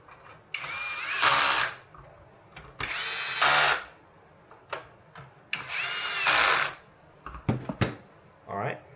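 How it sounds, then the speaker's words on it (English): A T20 power driver tightens the four screws holding down a Floatwheel Atom fender base, with several short, close bursts of whirring drill buzz separated by pauses and small clicks. "we need our T20 tools to tighten the 4 screws holding down the fender base"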